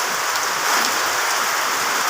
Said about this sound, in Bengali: বৃষ্টি হচ্ছে প্রচুর